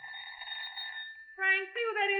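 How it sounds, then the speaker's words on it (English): A door buzzer in an old radio drama gives a clean electronic tone that holds steady and then breaks into two short, bright buzzing bursts, clear and close with no talk over it. "I'd hardly settled down with my paper when the door buzzer rang."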